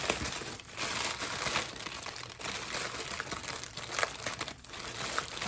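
Crinkly plastic packaging around a Gucci tote bag is crumpled and torn open close up, with steady rustling and crackling across the whole stretch and no voices.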